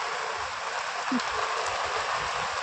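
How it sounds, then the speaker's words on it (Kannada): Steady, dense hiss of heavy rain pouring down continuously, loud and close, with no talking. "ಎಷ್ಟು ಜೋರಾಗಿ ಬರ್ತಾ ಉಂಟ ಮಳೆ ಇವತ್ತು"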